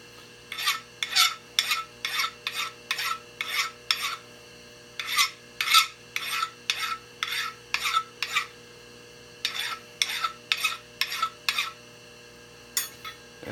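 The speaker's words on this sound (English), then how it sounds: "So what you do here is you just give it a quick deburr." Metal workpiece being deburred by hand after milling, likely with a file: about twenty rhythmic rasping strokes in three bursts, close and moderately loud, no talking.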